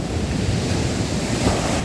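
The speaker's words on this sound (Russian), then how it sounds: "Ох, какой накат!" Sea surf surging and crashing onto the shore in a steady, loud roar, with strong wind buffeting the microphone throughout.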